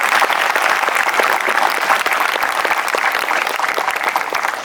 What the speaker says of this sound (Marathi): एकदा जोरदार टाळ्या पुन्हा व्हायला काही हरकत नाही.